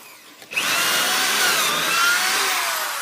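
A power drill bores pocket holes into firm, dense wood for a face frame, starting with a soft whir and then jumping into a loud, sustained high whine as the bit bites in and keeps cutting.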